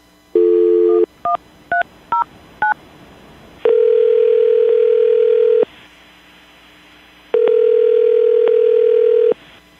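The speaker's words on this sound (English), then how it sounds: "I'm going to dial the phone number right now." A telephone keypad is dialed as a quick run of distinct touch-tone beeps, followed by two long, loud, steady ringing tones separated by a pause.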